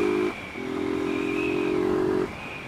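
A motorcycle engine revs close by, with a brief drop in tone as it shifts gears, then a sustained rising whine while accelerating on a city street.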